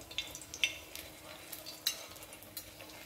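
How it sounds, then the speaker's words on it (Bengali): Moglai paratha frying in a pan or griddle gives a faint, soft sizzle, with light scraping and turning sounds as it is stirred and flipped. "এটাকে আমরা বন্ধুরা উল্টিয়ে পাল্টিয়ে ভালোভাবে ফ্রাই করব।"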